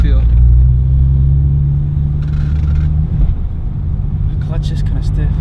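A manual BMW E92 335i drives on a flat left rear tire, heard from inside as a loud, low steady engine rumble that fades slightly, with people talking over it.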